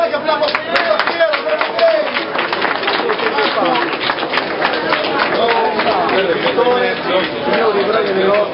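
A crowd at the Moto Days 2014 motorcycle show claps and cheers in a lively sustained burst, with someone speaking loudly over it.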